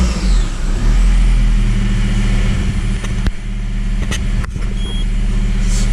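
A car engine idling close by after being started during a lambda sensor replacement, a loud steady low rumble with brief sharp clicks and knocks near the end, no talking.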